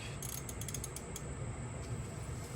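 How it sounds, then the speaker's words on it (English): A wrench ratchets on a subframe bolt of a Nissan Pathfinder R50, with a quick run of faint metallic clicks early on, then a quiet steady background hum. "then I go up to the top with my wrench"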